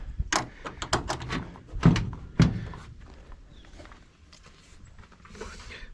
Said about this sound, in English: Relatch this door.